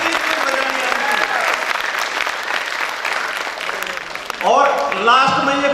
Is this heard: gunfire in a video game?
no